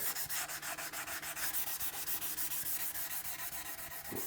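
Steady rhythmic hand sanding with 400 grit sandpaper on a Squier Stratocaster guitar body being refinished, a quick back-and-forth scratchy stroke repeating evenly and up close, with no talking.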